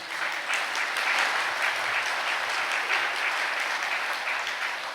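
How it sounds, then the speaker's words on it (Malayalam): A Catholic congregation claps hands together during a sermon, a dense, steady burst of applause that holds for several seconds at full volume without voices. "ഒന്ന് കൈ ഉയർത്തി കൈയടിച്ചേ."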